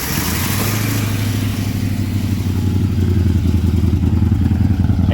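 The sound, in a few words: 1972 Plymouth Duster 318 V8 engine revving, exhaust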